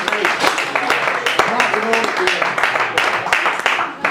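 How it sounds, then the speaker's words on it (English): An audience at a Blackpool George Formby show claps in a steady ragged round of applause, with a few voices talking over it. "Give him another round of applause, folks."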